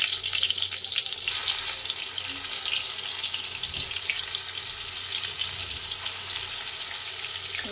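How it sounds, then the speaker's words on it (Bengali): Pointed gourd (potol) pieces fry in hot oil with a steady, dense sizzle, a close and continuous hiss with faint pops and no talking. "পটলগুলো ভেজে নিই।"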